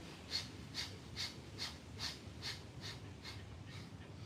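Steady group breathing during a yoga session, with about ten soft, evenly spaced breath pulses recurring roughly every half second and nothing else in the background.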